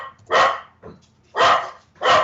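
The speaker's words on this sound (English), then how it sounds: "I'm going to stretch it out while my dogs bark never-endingly." Dogs barking in short loud bursts, three strong barks with a softer one between them, close by and with no talk over them.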